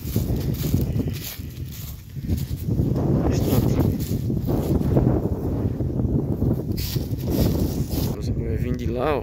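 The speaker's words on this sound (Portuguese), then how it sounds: "tá ventando muito, viu? Tá ventando bastante." Strong wind buffeting the microphone outdoors near the Piauí state border, a loud, uneven rumbling roar with someone speaking over it throughout.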